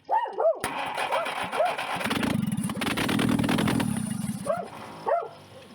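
A small engine, heavily choked, cranks over and catches, running roughly for a couple of seconds before dying out. A dog barks nearby before and after the engine runs.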